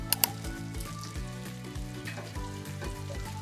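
Chopped onion added to ginger and garlic frying in a pan, a faint steady sizzle with a couple of small sharp clicks at the start and light stirring throughout.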